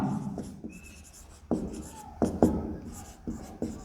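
Pen scratching across paper while notes are taken by hand, heard as quick, close strokes with sharp taps and short scribbles. A voice speaks faintly underneath.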